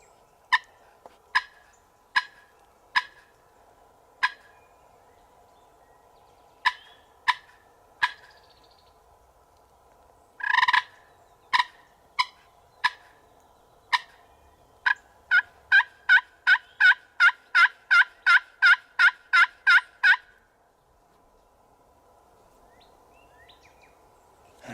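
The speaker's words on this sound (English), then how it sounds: "Was that a gobble?" Wild turkey in Indiana turkey country calling in the open, sounding as a string of sharp, evenly spaced yelping notes that pause, then speed into a rapid run of about fifteen calls before stopping.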